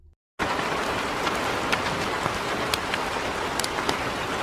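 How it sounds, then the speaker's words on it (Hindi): Heavy rain pours steadily and loudly after a brief quiet start, a dense continuous hiss with scattered drops striking surfaces, in an animated Hindi horror story. "लेकिन कुछ ही दूर जाते ही जोरों की बारिश शुरू हो जाती है।"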